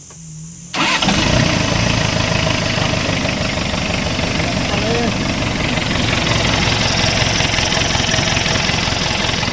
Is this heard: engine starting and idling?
yes